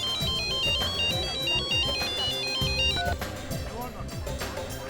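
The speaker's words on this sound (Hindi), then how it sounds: "आपका फोन बज रहा है।" A melodic electronic phone ringtone repeats a bright beeping tune over background music and rumble, then cuts off partway through.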